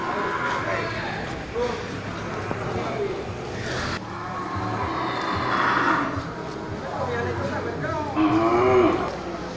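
Bali cattle, including a pregnant cow, moo at a livestock holding pen, with several low, drawn-out calls rising over steady background voices and farm noise.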